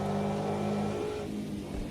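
A 1960s race car engine in the Automobilista 2 racing game, a steady droning hum that holds for a second and then fades slightly, with no talk.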